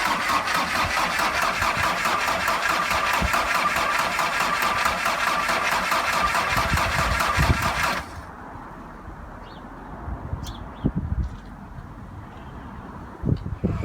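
A Volkswagen T4 engine cranks steadily on a freshly fitted starter motor, a loud continuous churning for about eight seconds that stops abruptly and leaves faint background knocks and rustles.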